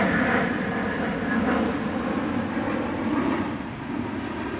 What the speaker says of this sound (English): sorry about the airplane flying